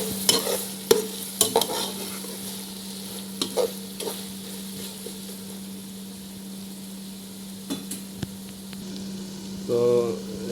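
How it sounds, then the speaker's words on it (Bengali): Tuna fish frying in a pan is stirred with a utensil, giving steady soft sizzling under a low hum, broken by sharp scraping clinks of the spoon against the pan, fairly close and moderate in level. "একটু নাড়াচাড়া করে দিচ্ছি আবারও।"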